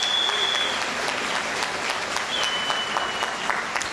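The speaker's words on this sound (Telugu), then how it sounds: "గట్టిగా చప్పట్లు కొట్టచ్చు కదా," Applause from an audience at a motivational network-marketing talk, a steady patter of many hands clapping throughout at moderate loudness, without speech over it.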